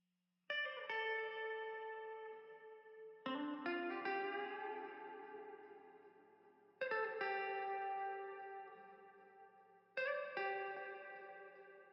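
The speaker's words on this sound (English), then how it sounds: "Last but not least, I added a guitar phrase. I recorded this one on my own guitar" Electric guitar phrase drenched in effects, with chorus, echo and reverb, recorded for a beat: four sustained chord strums ring out in turn, each struck loud and slowly decaying, with no voices.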